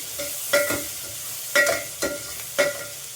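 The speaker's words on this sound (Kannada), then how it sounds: "ಸ್ವಲ್ಪ ಗೋಲ್ಡನ್ ಬ್ರೌನ್ ಬರೋವರೆಗೂ ಫ್ರೈ ಮಾಡಿ." Salted onions frying in a pan, with a soft sizzle under several distinct scraping stirs at roughly one-second intervals, close and fairly quiet.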